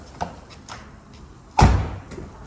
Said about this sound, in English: close the door. On the car.